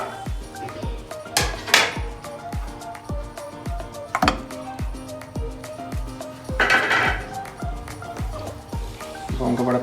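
Beef trotters going into a large cooking pot, with heavy metallic clunks, knocks and clinks at irregular intervals, close by, alongside a person talking.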